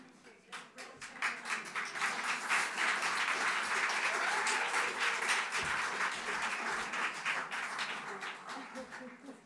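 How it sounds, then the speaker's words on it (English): Sustained audience applause at an educational publishing awards ceremony in Australia, a dense crowd of clapping that swells within the first second, holds steady and loud throughout, and tapers slightly at the end. "Applause."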